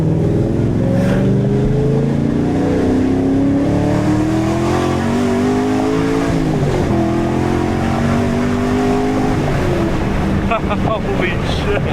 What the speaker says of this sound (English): that exhaust leak is pissing me off with a passion